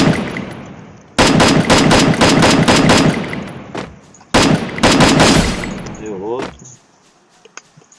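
Automatic gunfire in the Free Fire video game rattles out in two long, loud, rapid bursts, with a few scattered single shots and clicks trailing off near the end.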